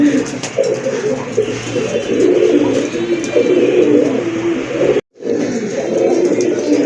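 A pigeon coos repeatedly and loudly close by in a pigeon coop, its low rolling calls running almost continuously with a brief cut near the end.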